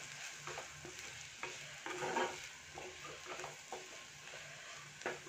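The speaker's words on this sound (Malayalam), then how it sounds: "ഇനി നമുക്കൊന്ന് ഇളക്കി കൊടുക്കാം." Bitter gourd slices coated with turmeric are stirred in a pan for a Kerala pavakka fry, giving soft, close scraping and rhythmic clinks of a spoon against metal over a faint sizzle.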